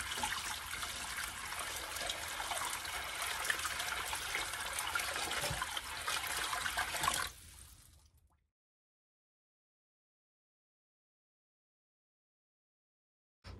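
Water pouring steadily into a small goldfish pond, a loud continuous gushing trickle that cuts off abruptly about halfway through, leaving silence.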